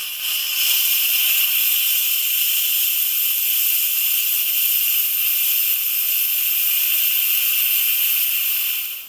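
Steady, loud hiss of steam venting from an Instant Pot during a manual pressure release while cooking mushroom risotto, constant and unbroken for several seconds before cutting off, with no talking.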